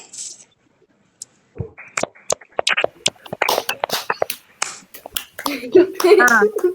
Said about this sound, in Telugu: ఒకసారి అందరూ సమన్వితకి క్లాప్స్ కొట్టండి.